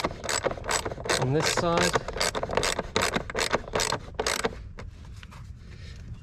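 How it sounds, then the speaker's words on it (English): Hand scraper worked back and forth over a part during a car airbox and transmission job, giving a series of sharp, rhythmic rasping strokes up close, loud and steady, fading to quieter scratching near the end, with a few words spoken over it. "let's go to scraping it down"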